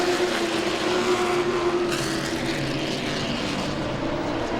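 Late model race cars at Langley Speedway roar into the start of a race, a loud, continuous engine drone from the whole pack with no talk over it.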